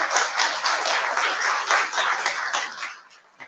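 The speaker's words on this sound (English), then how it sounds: "Ladies and gentlemen, a bigger round of applause" Applause from an audience at the IMPACT Person of the Year 2020 awards ceremony, a dense, loud wash of many hands clapping steadily before trailing off near the end.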